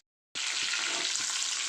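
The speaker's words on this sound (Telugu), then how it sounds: "ఈ పోపు దినుసులు అన్నీ వేస్తున్నానండి" Tempering spices dropped into hot oil for prawn gongura curry burst into a sudden loud sizzle after a moment of silence, then keep crackling and hissing steadily up close.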